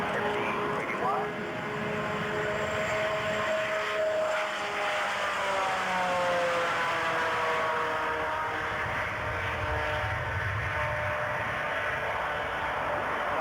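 McDonnell Douglas MD-81 airliner's propfan jet engine with contra-rotating blades, played back as a recording: a loud, steady droning roar with buzzing tonal harmonics that slowly shift in pitch, continuous and close, with people talking over it.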